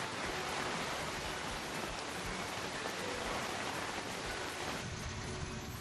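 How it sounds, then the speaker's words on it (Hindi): Heavy monsoon rain driven by strong winds in Sambalpur, Odisha makes a dense, steady roar of hiss and patter with no break. "यहाँ भी तेज हवाओं के साथ जोरदार बारिश हुई।"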